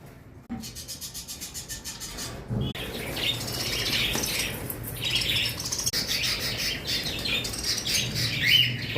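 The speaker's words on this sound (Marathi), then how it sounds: "पक्ष्याचा किलबिलाट" Birds, including white pigeons, chirp and squawk in a busy overlapping chorus outdoors, with bright, dense calls and a few wing flaps against soft background noise.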